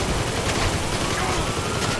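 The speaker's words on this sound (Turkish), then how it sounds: "Ateş bile ediyor." Rapid gunfire in the video game GTA 5, a dense continuous burst of overlapping shots filling the whole brief stretch loudly, with no talk over it.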